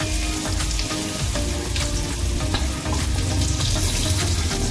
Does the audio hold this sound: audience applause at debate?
no